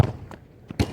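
A sharp, hard thump of a ball being struck, with a second solid impact a moment later, close by and punchy.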